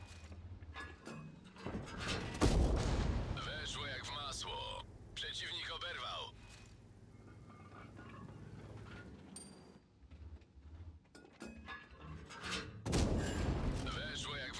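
Heavy tank cannon shots in World of Tanks with an FV215b, several sharp booming blasts spread through the stretch, with a player talking throughout.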